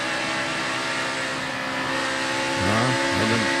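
A NASCAR Cup race car accelerates during Dover qualifying, its engine a loud sustained roar with rising, shifting pitch near the end, heard from trackside without speech.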